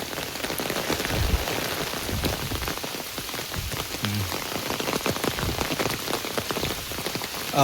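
Heavy monsoon rain pours onto a house, a dense, continuous hiss of drops hitting the roof and surfaces, loud and steady throughout with no voices.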